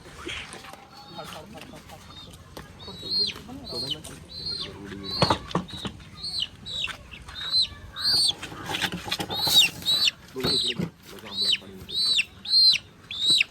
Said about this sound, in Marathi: कोंबडा आहे हो, 1200ला आहे.